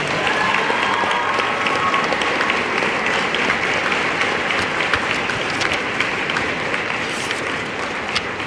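Sustained audience applause at an NJROTC pass in review award ceremony, dense steady clapping from a large crowd filling the whole stretch without letup.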